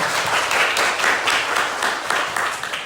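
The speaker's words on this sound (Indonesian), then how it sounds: "Tepuk tangan untuk kita semua." A classroom group claps together in a lively burst of applause, many hands beating in quick, rhythmic waves that fill the room.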